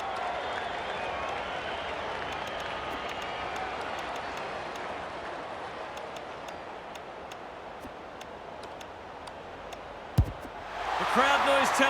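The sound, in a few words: stadium crowd noise in AFL 26 video game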